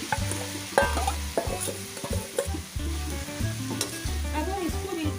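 Jaggery being stirred into hot ghee over a low flame, a spoon scraping and knocking against the pan in repeated strokes over a soft sizzle, close and fairly loud.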